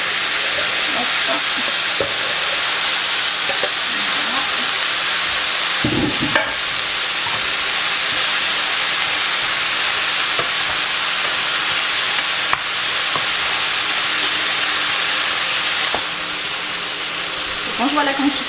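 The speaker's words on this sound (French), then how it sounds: "je vais rajouter les tomates que j'ai coupées grossièrement." Coarsely chopped tomatoes sizzle in a pan in a steady, close frying hiss, with a brief stir or clatter and a short spoken word.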